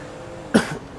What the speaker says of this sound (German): Einmal husten.